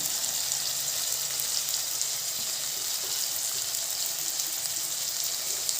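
Ginger, garlic, cinnamon, cloves and cardamom frying in oil in a pan for a raw papaya curry, giving a steady, close, even sizzle with faint crackles throughout and no talk.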